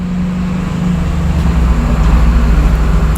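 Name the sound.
garbage truck driving by outside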